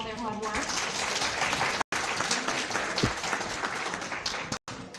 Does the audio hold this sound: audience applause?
yes